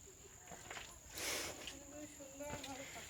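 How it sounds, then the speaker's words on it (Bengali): In the forest at Bhimbetka, a thin, steady cricket trill runs faintly throughout while soft bird chirps and a few rustles come and go, with low voices in the background. "এখানে শুনতে পাচ্ছি পাখির আওয়াজ, ঝিঝি পোকার আওয়াজ, জঙ্গলের যে স্বাভাবিক আওয়াজগুলো।"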